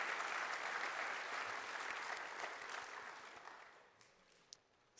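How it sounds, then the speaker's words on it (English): An audience applauds National Junior Honor Society inductees at an induction ceremony. The dense clapping is strongest at first and then thins and fades over a few seconds, with no voices over it. "Let's give our students a round of applause."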